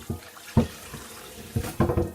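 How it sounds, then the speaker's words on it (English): Hot water runs from a sink faucet over a cast iron pan being rinsed, coming in uneven splashing bursts close by. "I'm going to run some hot water up in here."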